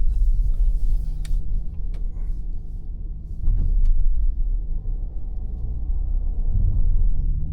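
A 2025 Audi Q5 SUV cruises on the road, heard from inside the cabin as a low, steady rumble of engine and tyres with a few faint clicks and bumps.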